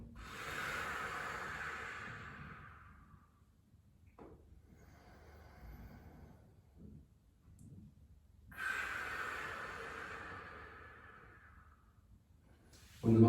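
Slow, deep inhales and exhales during a hamstring stretch in a post-workout hinge cool down, long airy breaths close to the mic and fairly quiet.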